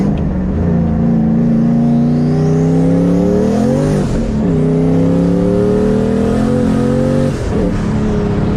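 Turbocharged New Edge Ford Mustang with a boost controller accelerating hard at night, a loud close engine note climbing steadily through the revs with brief dips at gear changes and wheelspin, no talking.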